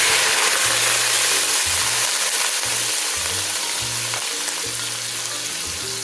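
Sliced onions frying in ghee in a pot for biryani, a steady close sizzle with intermittent low scraping and stirring knocks throughout, no voices.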